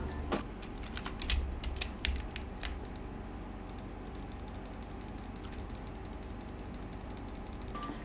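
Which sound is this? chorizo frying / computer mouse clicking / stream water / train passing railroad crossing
computer mouse clicking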